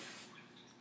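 A short, close burst of hairspray misted onto one section of hair while setting pageant curls, a soft steady hiss that fades quickly.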